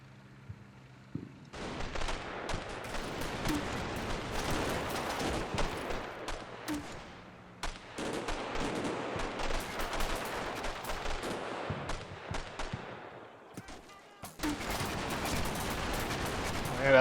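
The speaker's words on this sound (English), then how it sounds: "MG fire is going to be a problem." Machine gun fire in a military video game: long bursts of rapid automatic shots in several volleys separated by short pauses, loud and dense, with faint talk underneath.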